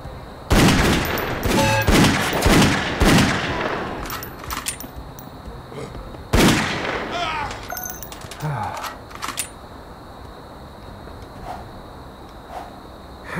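Gunshots from a gun in the video game Dead Second, loud sharp bursts and single cracks in two clusters with quieter clicks and gaps between.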